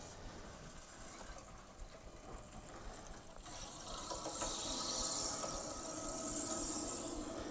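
Water running into a household water heater as the supply is slowly turned back on, a faint steady hiss and gurgle of filling that swells louder partway through.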